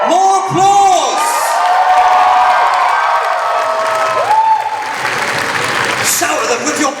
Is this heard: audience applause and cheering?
yes